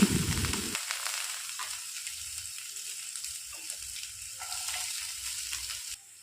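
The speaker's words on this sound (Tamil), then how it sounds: "சாப் பண்ண வெங்காயம் அதில் ஆட் பண்ணிக்கிட்டேன்." Chopped onions frying in oil with spices in a pan, a brief loud burst of sizzling at the start that settles into a softer, steady frying hiss with faint stirring taps until a clatter near the end.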